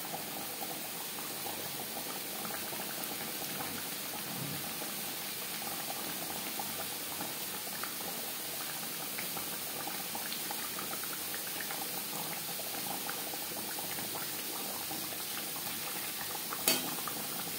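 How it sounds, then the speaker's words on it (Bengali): Gravy for Bhola fish curry bubbles steadily in a pan, a soft continuous simmering hiss with no talk, ending with a brief sharp click near the close. "গ্রেভি ফুটে ওঠা পর্যন্ত অপেক্ষা করব।"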